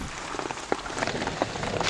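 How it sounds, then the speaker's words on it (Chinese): Steady rain patters on a hard surface, a dense hiss with scattered louder drops, fairly close and without any talking. "突如其來的大雨給了張富貴一個措手不及"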